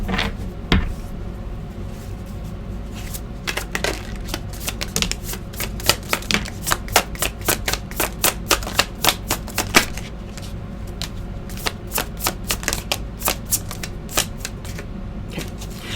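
Tarot cards being shuffled messily in quick, crisp bursts of riffling snaps, close by and continuing for a long stretch with uneven rhythm.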